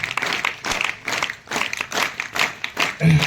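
An audience at a school maths rally claps in a steady double-step rhythm, paired beats repeating close and clear while a voice speaks over the clapping.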